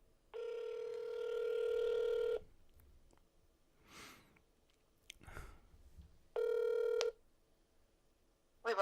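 A telephone dialing tone plays for about two seconds, followed by a pause with faint rustling and a brief crunch. A second tone then plays for under a second, clear and close.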